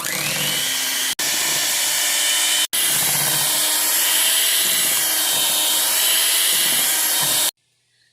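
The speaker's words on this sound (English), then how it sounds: "Now we're going to mix on high again." An electric mixer beats homemade cheesecake batter on high, giving a loud, steady motor whir that cuts out briefly twice and then stops just before the end.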